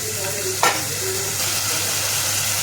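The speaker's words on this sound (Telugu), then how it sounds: "ఇప్పుడు కడిగి పెట్టుకున్న పెసరపప్పు వేస్తాను నూనెలా. కొంచెం సేపు నూనెలా కాలాలి పప్పు." Washed moong dal fries in hot oil with a steady sizzle. A sharp stirring clatter comes early and the crackle carries on evenly afterward.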